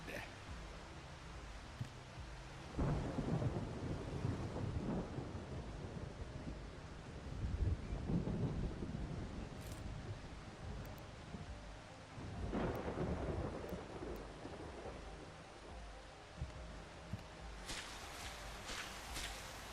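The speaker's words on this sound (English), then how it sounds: "We'll wait until the storm's over." A thunderstorm with steady rain, deep thunder rumbles rolling in at intervals over a constant wash of rainfall, loud and close, with no voices.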